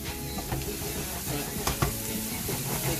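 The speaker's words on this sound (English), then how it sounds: "So once you've just given this a good sweat, you might need a bit more oil." Leeks sweat in olive oil in a pan, a dense steady sizzle with occasional scraping and stirring clicks, close and continuous.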